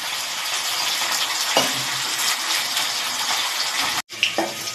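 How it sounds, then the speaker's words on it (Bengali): Potato pieces frying in hot oil in a home kitchen give a steady, dense sizzle that runs nearly unbroken, with a brief gap near the end before the crackle resumes. "আলুগুলো ভাজা হয়ে গেছে"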